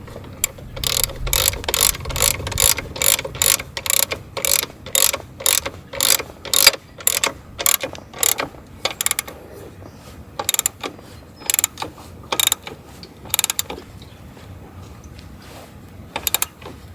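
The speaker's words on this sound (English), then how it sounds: "what you really need is two different ratchets" A hand ratchet clicks in quick repeated strokes while tightening engine guard crash bar bolts on a Suzuki V-Strom 650, the sharp close clicks slowing into sparser bursts toward the end.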